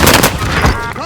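Burst of gunfire in the Call of Duty Vanguard video game, loud and dense rapid shots crowding the opening moment, then tailing off into reverberant echo.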